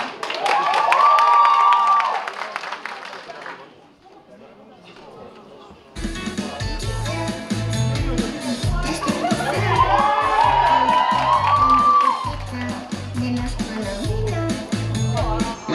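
At a high school ball with stage acts, a crowd applauds and cheers loudly with shouts. The noise drops off briefly, then surges back strongly with lively, overlapping voices.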